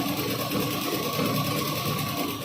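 A sewing machine runs a continuous running stitch through blouse lining with a steady, close mechanical whir and fast needle clatter. No talk is heard.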